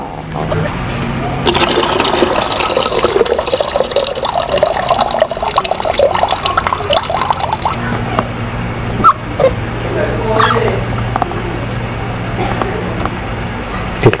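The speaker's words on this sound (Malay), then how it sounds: "Okey, air yang berlebih ni kita akan keluarkan balik." Excess water drains out of a seedling tray with soaked sponge cubes, a steady trickling and splashing that runs throughout, with a person speaking intermittently over it.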